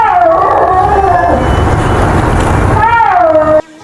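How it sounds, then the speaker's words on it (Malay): A snow leopard lets out a long, wavering moan-like yowl that rises and falls in pitch, loud and close, breaking off abruptly at the end. "Harimau bintang salji atau snow leopard"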